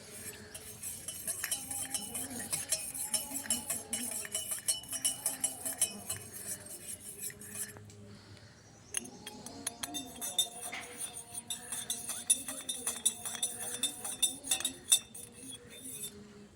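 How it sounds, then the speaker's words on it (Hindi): A spoon stirs sugar into a cup of tea, producing quiet, repeated metallic clinks against the cup in a quick irregular rhythm, close and faint, with a brief pause midway before the clinking resumes. "चाय को घोलते हैं"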